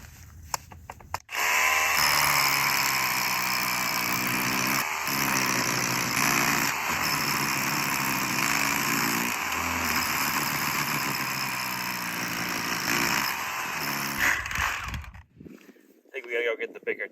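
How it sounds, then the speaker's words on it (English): Engine-powered drill boring into soil around a perimeter on an off-grid homestead, running loud and steady for about thirteen seconds with a constant high whine, then cutting out near the end. "I figure we might as well use the drill to kind of drill out the perimeter"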